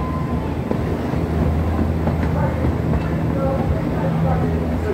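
The Pleasure Beach Express amusement park train rumbles steadily on its track, with faint clickety-clack and dense noise filling the ride, and people may be talking over it.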